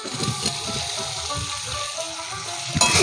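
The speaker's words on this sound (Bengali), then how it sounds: "মা এবার ভেজে রাখা আলু আর লাউটা ওর মধ্যে দিয়ে দিচ্ছে।" Fried potatoes and bottle gourd tipped into a cooked turmeric and salt spice paste for a Bengali rohu fish curry. They sizzle and crackle steadily in the pan at close range, with light stirring knocks and a sharper hiss near the end.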